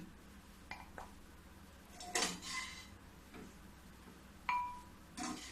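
A spoon scrapes samosa spice mix out of one vessel into a glass bowl in a home kitchen. There are faint, scattered clinks and scrapes, a few sharper taps, and quiet stretches between them.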